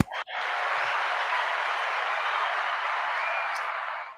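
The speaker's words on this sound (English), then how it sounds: "Give him a round of applause." Sustained, even applause swells in after a brief pause and holds at a steady level throughout without voices.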